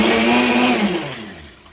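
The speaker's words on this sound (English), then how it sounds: "Yep, it'll run a blender." A blender running off a portable power station, a steady whirring motor drone with a fading tail as it winds down, close and alone.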